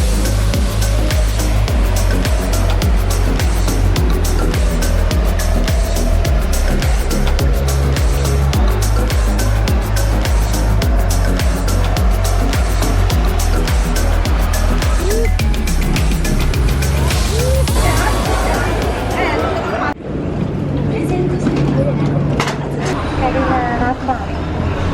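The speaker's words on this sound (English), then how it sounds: "we've come to the Easy Cart go-karting in Pattaya, and we're going to be racing around for 2 heats" Go-karts race around the Easy Cart track in Pattaya, their engines droning and revving as they pass. The sound stays loud and busy, then suddenly drops away near the end. Voices talk over it.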